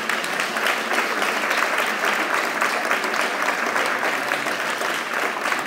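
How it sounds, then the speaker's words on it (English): Sustained applause from an audience at a school prize-giving ceremony, dense steady clapping filling the room throughout, with no speech over it. "we'll give her a round of applause"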